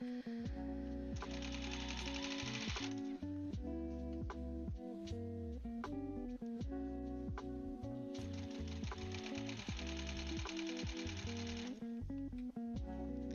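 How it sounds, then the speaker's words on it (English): Sewing machine stitching seams on a quilt, a steady rapid mechanical chatter that runs for the whole stretch, loud and close, with the motor and needle rattle rising in bursts and easing between seams. "If you're sewing along with me, make sure you're taking your time, lining up all of your seams."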